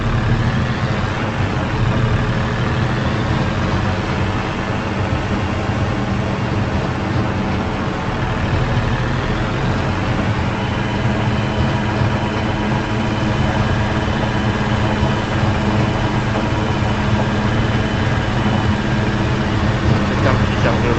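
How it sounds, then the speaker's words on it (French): A tractor engine idles in the Farming Simulator 25 game, a steady low diesel rumble that holds even and continuous throughout with no breaks. "Redémarrer le tracteur."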